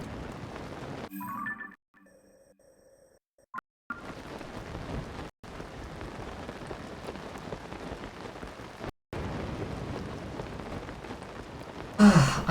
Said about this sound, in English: I still love the way that the rain pitter-patters against the paraglider